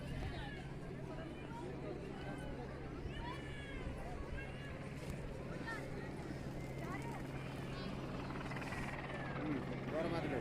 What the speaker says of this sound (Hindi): अभी आप जो पीछे हेलीकॉप्टर की आवाज़ सुन रहे हैं,